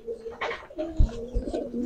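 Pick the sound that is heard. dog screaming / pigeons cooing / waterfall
pigeons cooing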